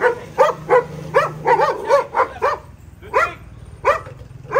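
A dog barks repeatedly in quick bursts nearby, some barks high and yappy, with short pauses between runs over a faint low hum.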